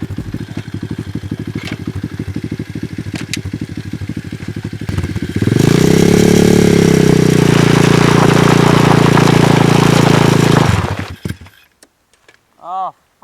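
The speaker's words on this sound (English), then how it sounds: "I'm gonna do a quick little burnout right here." A pit bike engine idles with a steady putter, then revs hard and holds a loud, sustained high-rpm whine through a burnout for about five seconds before cutting off abruptly.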